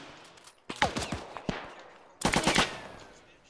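Gunfire in a WWII shooter video game: sharp bursts of automatic fire and single shots, one cluster early and a louder, denser volley later, with no talk.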